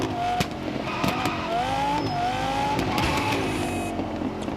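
Car engine driving in the racing game Test Drive Unlimited Solar Crown played on a ROG Ally X, a steady engine hum rising and shifting in pitch as it accelerates and changes gears, with faint tire noise.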